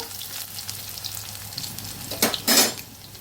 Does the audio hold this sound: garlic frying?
yes